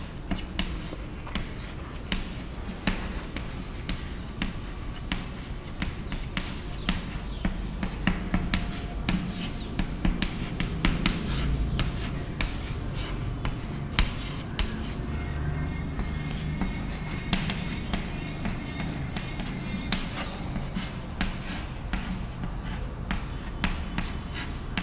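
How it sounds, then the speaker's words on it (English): A pen scratching steadily on paper as a statistics definition is written out by hand, a continuous close-up scrawl of short strokes and taps with no talking. "So I am writing the definition."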